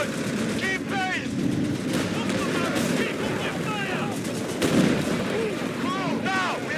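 Battle din from the Company of Heroes 3 North Africa campaign, with gunfire and explosions rolling continuously under shouted voices while an enemy machine gun opens up on an island position.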